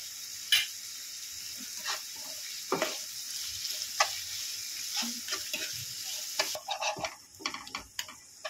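Onion frying with salt in a pan until light brown, a soft steady sizzle under a series of sharp scraping stir strokes at irregular intervals, close, with no voices.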